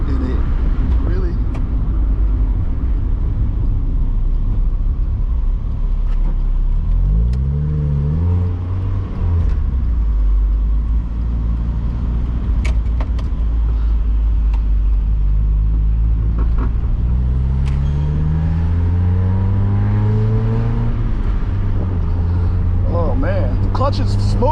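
Mazda Miata sports car on a first drive, a steady loud engine drone from inside the cabin with pitch rising and falling through gear changes as people talk over it.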